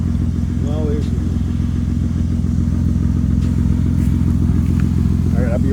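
A stripped-out BMW E30 drift car engine idles steadily and close by, a smooth, even low rumble that continues throughout, with a voice talking briefly over it.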